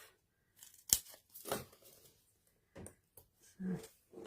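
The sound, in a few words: cutting cardstock pieces in half with scissors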